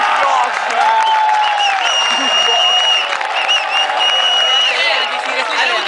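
A crowd clapping and cheering at a contest show, with steady dense applause mixed with whoops and crowd babble, plus sustained electronic tones running through it.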